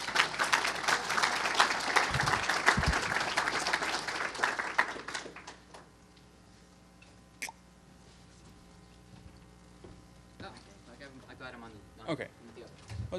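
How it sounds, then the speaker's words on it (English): An audience at a hacker conference talk claps in a dense burst of applause that fades away after about five seconds, followed by quieter room sounds and scattered speech. "Give the man an applause."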